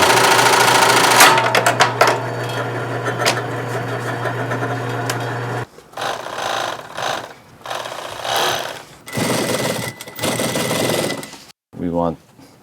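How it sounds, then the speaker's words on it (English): Overlock sewing machine sewing a shell stitch on jeans fabric, running in a fast steady whir that stops and restarts in short bursts, with a voice speaking between. "It's an overlock machine."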